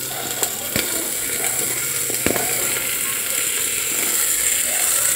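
Cucumber going into a pan of fried onions: a steady, close frying sizzle with a few sharp clicks and knocks from the spoon and pan.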